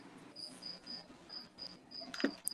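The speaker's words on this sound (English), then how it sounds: "somebody has crickets." Crickets chirp in steady, evenly spaced bursts, a repeating high trill that pulses about every quarter second against a quiet background, with a brief louder rustle near the end.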